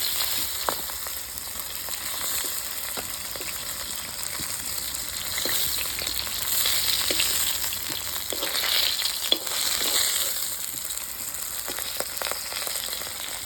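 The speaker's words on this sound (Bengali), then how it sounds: "বাকি মাছগুলো এভাবে ভেজে নেবো" Pieces of boal fish fry in a pan of hot oil for a thin fish curry, giving a steady, close sizzle with crackles and small pops that runs the whole time and has no talk over it.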